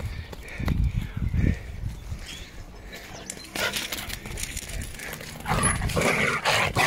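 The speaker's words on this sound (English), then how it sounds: "Dogs everywhere." Dogs bark in short scattered bursts at a building site, some close and some farther off, mixed with outdoor noise and a little voice activity.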